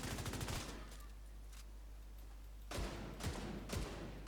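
Rapid rifle bursts in The Division 2 shooter game, a fast volley at the start, then a quiet gap and two more sharp bursts near the end, fairly close and punchy.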